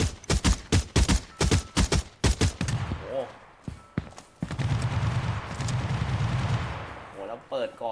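A quick string of sharp, close gunshots in a shooter game streamed over GeForce Now, followed by a louder, muddier stretch of battle noise with scattered shots and a voice talking.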